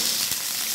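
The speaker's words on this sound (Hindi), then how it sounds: "आप इसको इस तरह से हिलाते हुए पकाएं।" Potatoes and tomatoes sizzle steadily in a hot pan, a continuous close frying hiss with a brief stir partway through.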